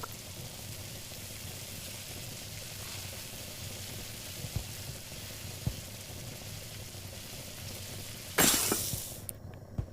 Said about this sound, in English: Now you just want to put the potato in the pan and let that cook.